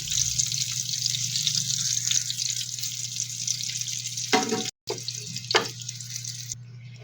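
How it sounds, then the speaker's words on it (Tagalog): Milkfish (bangus) fries in a pan with a steady, close sizzle and crackle, broken by a brief pause and a couple of louder spattering pops near the end. "Prituhin lang ang bangus ng 3 minutes sa bawat side."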